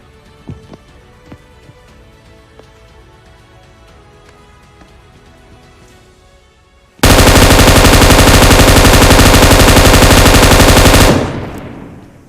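Quiet background with faint clicks, then a loud, continuous stream of rapid automatic gunfire in a video game, lasting several seconds before cutting off abruptly.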